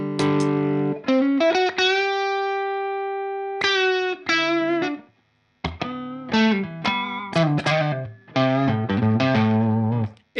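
Electric guitar played through an overdrive pedal for a thick, chewy tone: sustained chords and short riffs, a long held chord ringing out, then brief gaps and choppy phrases, loud and alone without talk.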